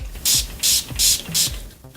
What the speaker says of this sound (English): So I'll just be spraying it with the Urban Decay setting spray.